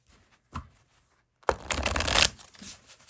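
Tarot cards with a slippery linen finish being shuffled close up: a few soft flicks, then a loud riffling burst that settles into quieter shuffling.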